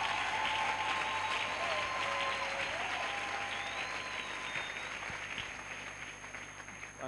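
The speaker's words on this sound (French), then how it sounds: "On peut acclamer pour Dieu." A church congregation applauding and cheering in worship, dense continuous clapping from a large crowd that fades gradually over seven seconds.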